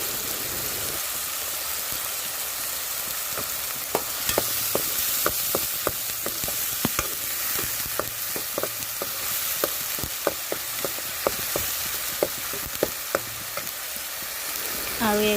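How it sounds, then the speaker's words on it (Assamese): Masala being stirred in a pan after salt and turmeric go in, for a fish curry; a continuous frying hiss carries repeated sharp spatula scrapes and taps against the pan, close and steady, with no talk. "দি পেলাই পুনৰ মই লৰাই দিম"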